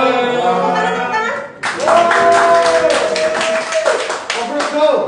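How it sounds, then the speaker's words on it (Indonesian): A small indoor audience at an offroading awards night breaks into close, brisk clapping that starts abruptly and keeps going, while a voice carries on over it. "Tepuk tangan."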